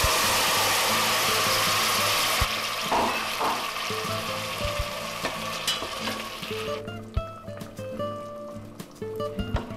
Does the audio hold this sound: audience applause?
no